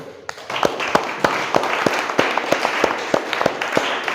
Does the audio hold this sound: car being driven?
no